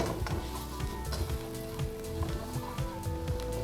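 Spice mixture sizzling and frying in a pan for a mango anchar pickle, with a steady close crackle of hot oil and some stirring clatter throughout.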